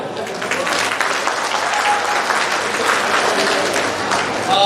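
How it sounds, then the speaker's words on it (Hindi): A large crowd at a community gathering and celebration applauds loudly and continuously, a thick, even wash of clapping. "जोरदार ताली बजाओ"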